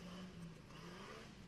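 A Jeep 4.0 engine revs hard in a stock UTV race, a loud, steady, strained drone with no pause, close to the listener and with no talk over it.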